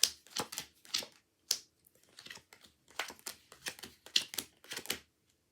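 Playing cards dealt one by one into piles on a table during a card trick, giving a series of crisp, close slaps and flicks in an uneven rhythm with short pauses between.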